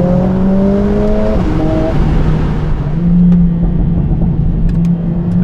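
A Mercedes A45 AMG S in race mode with the exhaust open, accelerating hard: a loud, close engine note climbing steadily in pitch with a gear change partway, continuous throughout with no talk.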